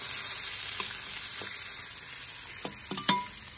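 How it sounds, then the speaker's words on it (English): Vegetables fry in hot oil in a wok set over a Big Green Egg outdoors, giving a steady continuous sizzle with a few sharper crackles and stirring clinks near the end. "I start with the vegetables first. Kind of coat them through that oil."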